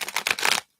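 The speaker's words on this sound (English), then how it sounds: "Let me give these a shuffle" Tarot cards are shuffled up close in a quick burst of riffling, papery flutters that stop abruptly after under a second.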